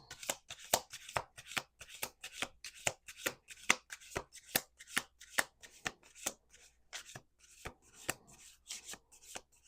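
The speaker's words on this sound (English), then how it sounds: "One last shuffle." Close, crisp card shuffling: a continuous run of sharp riffling snaps in an even rhythm, alone without any voices.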